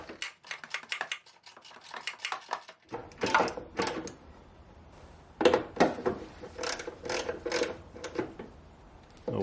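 An airbox assembly is refitted in a 2013-2014 Subaru Impreza engine bay: sparse close plastic clicks, knocks and rattles, faint at first and then a busier run of handling noises.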